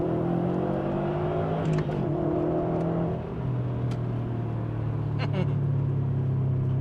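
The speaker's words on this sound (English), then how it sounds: "I'll just accelerate in 1st gear in the rain" A video game car accelerates in first gear on a rainy map, engine drone holding steady then dropping in pitch partway through as it shifts, with a steady rain-like hiss underneath.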